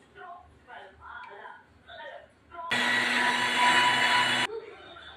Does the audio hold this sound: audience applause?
no